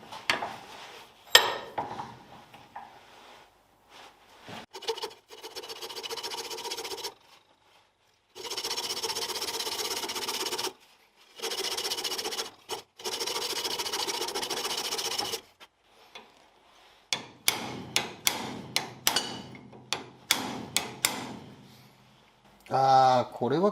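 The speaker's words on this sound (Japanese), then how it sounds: "これもさっきのと同じでここにつばがついてるんで切り落とします" Power cutting tool slicing the flange off a tension link from a Mazda RX-7 FD3S suspension during restoration, sustained loud buzzing passes broken by pauses, then a run of short sharp bursts near the end.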